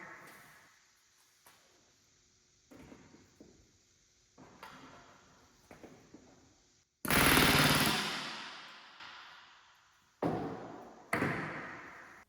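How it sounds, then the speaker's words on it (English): A rivet gun bucks rivets against a bucking bar on a homemade airplane body, giving short, faint taps followed by three loud, close rattling bursts of hammering. "I had to buck them with a rivet gun and a bucking bar"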